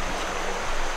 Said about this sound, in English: water is a flowing sound